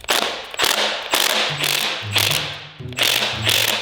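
A hand ratchet turning a socket on a stuck car bolt, clicking in about six loud, close bursts of rapid pawl ticks with short pauses between strokes, no talking.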